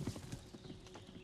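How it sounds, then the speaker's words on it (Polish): Horse hooves clip-clop in the western survival game Above Snakes, a quick run of light, evenly spaced hoofbeats, faint and close, with a brief soft whinny-like sound near the start. "osiodłaj konia"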